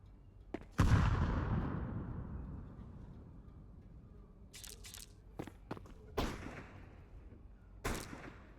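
A grenade goes off in a Counter-Strike ranked match, one loud booming blast with a long rumbling decay, followed by several sharp clicks and clatters of in-game footsteps and gear.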